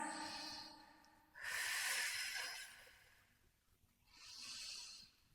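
Heavy exhales during a Pilates ring core workout, two distinct breathy rushes of air a few seconds apart, close and fairly loud against a quiet room.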